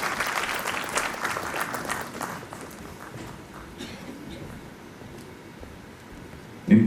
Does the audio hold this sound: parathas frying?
no